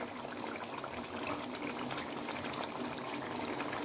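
Chicken karahi, a Peshawari charsi-style street dish, simmers and bubbles in a pan, a steady close hiss of boiling liquid that runs without a break.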